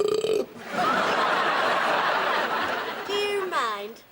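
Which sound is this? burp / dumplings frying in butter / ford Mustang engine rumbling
burp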